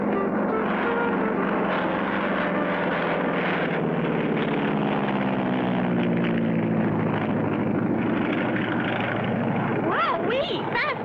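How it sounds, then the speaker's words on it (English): A cartoon airplane takes off with a loud, steady propeller drone that holds throughout and slowly shifts in pitch, from a 1959 Clutch Cargo episode. "Fast takeoff, Clutch."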